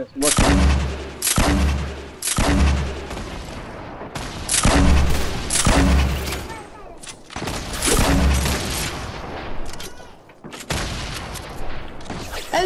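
Gunfire from a shooting video game comes as repeated loud bursts of rapid shots and booms, several volleys in a row with short gaps between them, close and dominant.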